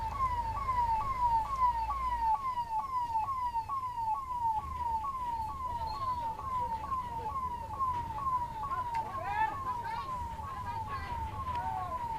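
An ambulance siren wails steadily in a repeating rising-falling pattern over continuous road traffic rumble, loud and close throughout, with faint voices briefly audible near the end.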